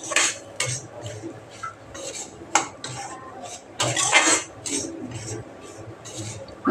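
Food being stirred and roasted in a pan at home, a spoon clinking and scraping against the metal in irregular bursts, close and fairly loud, with faint background noise.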